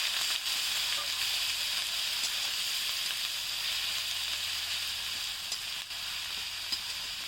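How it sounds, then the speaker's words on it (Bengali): Onion paste sizzling and frying in hot oil in a wok, a soft continuous crackle with faint stirring scrapes, steady throughout. "অল্প পরিমাণে পেঁয়াজ বাটা দেওয়া হলো এটা ভালো করে কষিয়ে"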